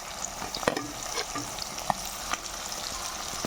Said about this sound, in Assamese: মাংস প্ৰায় সিজিছে আৰু ফ্ৰাই হৈ গৈছে।